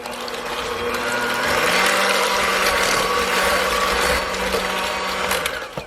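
An electric mixer whirs steadily as it blends vanilla extract and lemon juice for DoubleTree-style cookie dough. The loud, continuous motor hum shifts slightly in pitch partway through and runs for several seconds with no talking.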